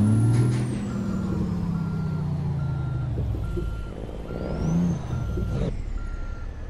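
Heavy truck in American or Euro Truck Simulator: engine rumble with a hiss of air brakes and a long run of evenly spaced reversing beeps, with rain falling in the game.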